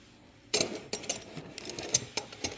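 New garage door rollers are pushed into the metal track, giving a few sharp metallic clicks and clacks spaced irregularly over a couple of seconds, fairly close and quiet otherwise.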